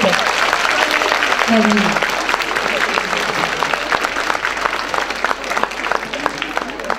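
Concert audience applauding at a Russian folk song concert in Vyksa, a steady broadband patter of many hands filling the hall for several seconds, with a voice speaking briefly over it near the start.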